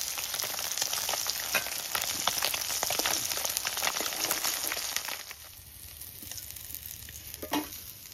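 Parshe fish frying crisp in hot oil, a steady dense crackling sizzle that is loud at first, then eases to a quieter bubbling with a few sharp pops near the end.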